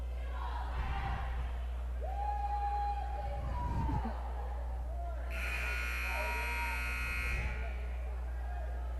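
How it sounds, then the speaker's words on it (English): A loud electronic buzzer blares for about two seconds in a volleyball gym during a Dig Pink match, sounding over steady crowd murmur and announcer chatter. "Buzzer works."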